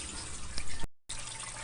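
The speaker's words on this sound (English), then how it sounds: "water's going to be swirling around inside, come over the top, come down into here" A homemade vortex fountain built from plastic pipes sends water swirling and splashing in a steady close-up flow, broken by a brief silent cut before the flow resumes.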